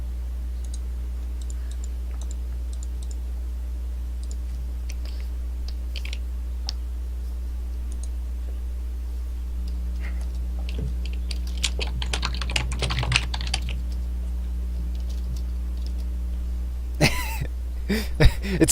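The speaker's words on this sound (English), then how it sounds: "Sorry for the typing. I know my keyboard's loud." A loud mechanical computer keyboard clatters in a sustained run of quick keystrokes over a steady low hum, with denser bursts of clicking toward the middle and end.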